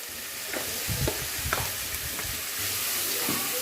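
Ground coconut masala with mustard seeds and curry leaves fries in a pan, a close, steady sizzle broken by soft stirring scrapes and a few light taps.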